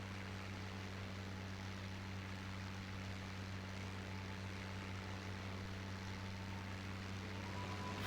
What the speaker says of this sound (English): the engine's doing some strange sounds